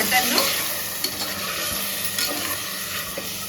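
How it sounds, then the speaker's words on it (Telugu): Mutton for Hyderabadi haleem frying in oil in a pan, a loud, dense, continuous sizzle with occasional stirring knocks, close by and with no talk. "కొంచెంసేపు ఇట్లా ఆయిల్లో ఫ్రై కానీ"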